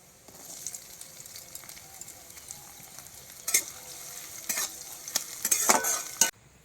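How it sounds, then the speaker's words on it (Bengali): Whole cumin seeds and onion hit hot oil in a kadai: a quiet, continuous sizzle that swells toward the end, with several sharp spatula scrapes and clatters close by. "কড়াতে এবার তেল দিয়ে দেব। তেল গরম হয়ে গেছে। এবার গোটা জিরে আর পেঁয়াজ দিয়ে দেব।"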